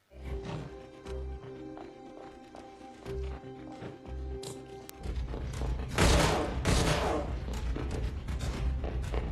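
Gunfight in a casino heist film scene: in darkness after the lights go out, a low rumbling score with heavy thuds gives way to a loud burst of shots and crashing noise in the second half.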